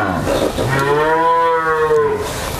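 A single long, loud cow moo at a dairy farm, close by, rising and sustained for about two seconds.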